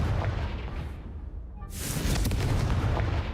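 A Confringo blasting spell from the Hogwarts Legacy video game erupts in a loud, rumbling explosion that drops away briefly and then surges back with a bright burst of debris-like noise.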